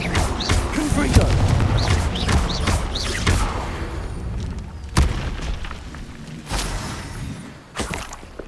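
Explosions from the Confringo blasting spell in Hogwarts Legacy: several booming blasts with whooshing tails, one sharp hit near the middle and another late, amid other spell effects and occasional speech.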